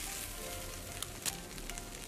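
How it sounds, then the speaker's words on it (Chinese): Bitter melon and egg filling folded inside a pocket pancake pan-fries in oil, giving a steady, close sizzle with fine crackling throughout and a couple of brief sharper pops. "一面大概煎3分钟"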